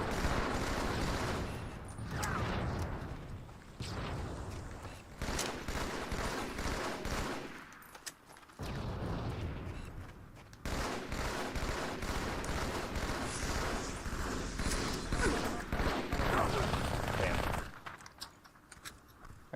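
Sustained gunfire in an online Halo 2 match, with dense bursts of rapid shots and explosions filling almost the whole stretch, loud and continuous with a few brief lulls. Voices can be heard over the firing.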